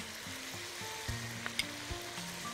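Shawarma meat browns in a hot pan, giving a soft, even sizzle throughout with a few faint clicks and taps, and no one speaking.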